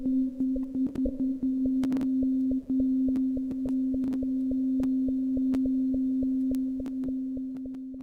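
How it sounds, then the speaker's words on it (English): A steady sine tone processed by a CrusherX XCrush granular effect, with rhythmical knocking sidebands ticking over the constant pitch, loud and close throughout. "It is a rhythmical knocking of two sidebands. The sine wave dominates the sound all the time."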